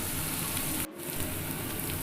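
Chopped onion sizzles steadily in a pan, close and continuous, with a brief drop in the sizzle as a spoon breaks the pieces apart.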